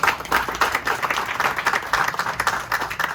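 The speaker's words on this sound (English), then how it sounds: "let's give ourselves a round of applause" A crowd at a housing community's grand opening celebration breaks into hearty applause, dense clapping with a pulsing rhythm carrying on throughout, near and loud, with no speech over it.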